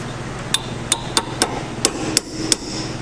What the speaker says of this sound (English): I'm going to tap it with a drift punch.